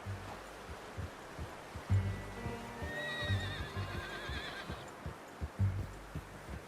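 In Red Dead Redemption 2, a horse lets out a drawn-out whinny mid-clip while its hooves clop and thud unevenly nearby, with low rumbling ambience beneath.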